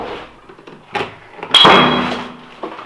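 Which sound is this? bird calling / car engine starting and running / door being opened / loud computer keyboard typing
door being opened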